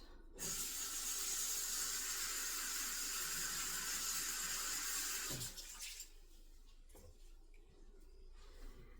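A cleaning cloth rinsed under a running tap: a steady gush of water for about five seconds, then it stops, leaving faint drips and handling sounds in a quiet room.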